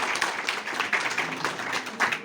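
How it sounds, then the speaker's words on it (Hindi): A single person clapping hands repeatedly at a quick, uneven pace in a room during a motivational talk, fairly faint, with speech going on around the claps. "ताली इसलिए बजा रहा हूँ"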